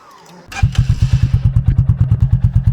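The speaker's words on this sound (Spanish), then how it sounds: "Escuchen el sonido de ralenti, es un sonido grueso, pero no es ruidoso todavía" An Italika 250Z motorcycle engine fires up and settles into a deep, steady idle with even, thumping pulses, loud and close.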